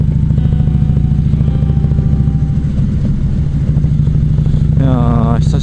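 A motorcycle engine runs steadily throughout a ride, a loud, constant low rumble with mechanical clatter, heard close with wind, and a voice briefly audible near the end.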